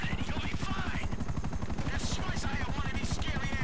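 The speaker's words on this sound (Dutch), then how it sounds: "Ja, waar is die helikopter?" Helicopter in GTA V heard as a continuous rapid rotor chop, loud and dense, mixed with game noise and a voice talking over it.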